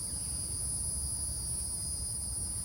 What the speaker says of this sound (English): The crickets can't stop agreeing.